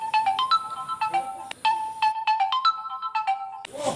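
A mobile phone ringtone plays a bright electronic melody of repeated tones, loud and close, looping for an incoming call with no voices over it.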